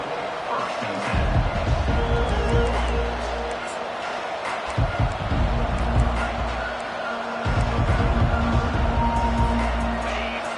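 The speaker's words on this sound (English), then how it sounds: "This crowd, full throat, splitting the eardrums and letting them know it's going to be a long day" A stadium crowd roars in NCAA College Football 25 during a Mississippi State vs Texas A&M game, a loud continuous swell with deep rumbling surges beneath steady commentary.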